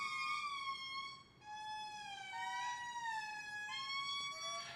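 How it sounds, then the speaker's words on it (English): Indri lemurs in a Madagascar forest give long, wailing siren-like calls, sliding tones that rise and fall in overlapping waves, loud and sustained with a brief pause partway through. "Their calls echo through the forest, sounding like music mixed with a warned siren."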